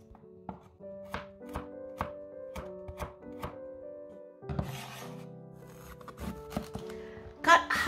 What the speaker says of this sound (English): Slice the carrot into thin rectangular slices